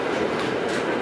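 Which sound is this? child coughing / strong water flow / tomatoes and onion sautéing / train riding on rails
train riding on rails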